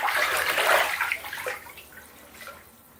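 Bath water swirled by hand as a blood orange bath bomb fizzes, a splashy, sloshing wash that starts fairly loud and gradually settles into softer trickling and fizzing.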